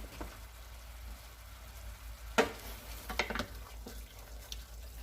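A pan of stuffed-shell filling seasoned with sazon and adobo is stirred, a faint, low sizzle with a few distinct utensil clinks and scrapes near the middle, quiet and with no talking.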